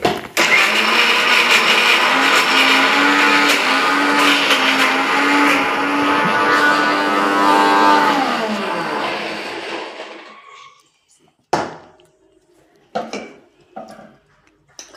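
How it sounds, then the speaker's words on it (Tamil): A kitchen mixer grinder grinds peanut chutney, a loud, steady whirring motor for about ten seconds that winds down and stops, followed by a few brief knocks and handling sounds. "அப்புறம் மிக்ஸியில் போட்டுட்டு மறுபடியும் அரைக்கணும்."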